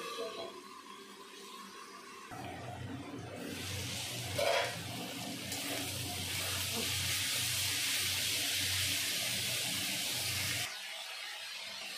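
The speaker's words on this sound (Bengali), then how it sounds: "এখন দিয়ে দেবো সামান্য পরিমাণের জল।" Water poured into a hot pan of frying snake gourd, potato and onion for a village-style curry, with a sudden louder rushing sizzle that swells and holds for several seconds, then cuts back to a softer hiss.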